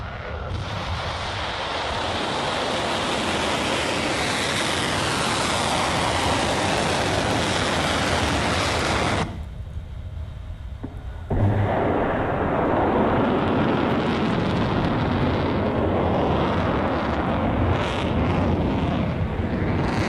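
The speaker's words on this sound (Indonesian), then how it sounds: "Anda sedang melihat tembakan rudal dari salah satu wilayah Iran yang menyasar Israel" An Iranian missile launch aimed at Israel produces a loud, broad roaring rush that drops away briefly midway, then surges back and keeps thundering to the end.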